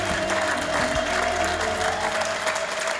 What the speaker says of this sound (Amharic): ግባይቱ ለጌታ ክብር አጨብጭቡለት።